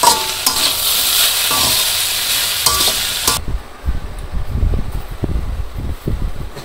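Bitter gourd frying with green chilli, turmeric and salt in a village kitchen pan, a loud close sizzle for a few seconds, then stirring scrapes and rustles over a quieter hiss.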